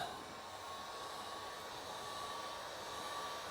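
Heat gun warming a vinyl graphic being applied to a motorcycle, giving a steady, even blowing hiss that runs unbroken throughout, close and fairly quiet with no talk.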